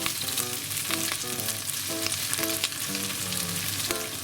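Bacon and garlic fry in oil for carbonara, a dense, close crackling sizzle with occasional stirring taps, running steadily beneath a soft melodic tune.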